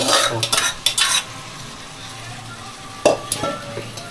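A spoon scrapes and clinks in a pan while vegetables and peas are stir-fried for paneer biryani, with bursts of stirring, a quiet pause, then more scraping and a faint sizzle underneath.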